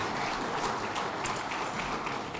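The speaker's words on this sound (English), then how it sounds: "A round of applause once again for our final award winner of the evening." An audience at a clubs and community awards night applauds the final award winner of the evening, dense, loud, continuous clapping filling the short stretch without any voices.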